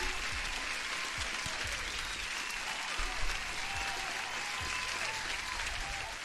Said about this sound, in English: Oh, huge applause for everyone who's here.